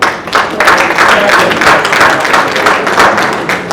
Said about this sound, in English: Another big round of applause for Michael over there.